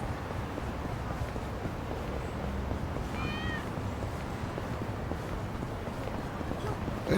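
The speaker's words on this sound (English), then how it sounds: "I just hear a cat" A brief cat meow surfaces about midway through a steady wash of game background noise in Yakuza: Like a Dragon, faint and short, with no talk around it.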